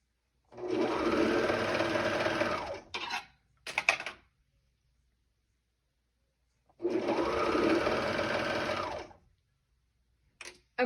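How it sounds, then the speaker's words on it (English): Sewing machine stitching the waistband of a pair of shorts: two long, close, even runs of rapid mechanical whirring, each followed by short clicks and handling noises, with quiet pauses between. "I'm gonna kind of align my waistband."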